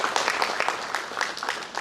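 Brief clapping from the audience at an Antarctica Day 2023 event honouring an expedition member, with individual hand claps standing out in a quick, uneven rhythm over a crowded background.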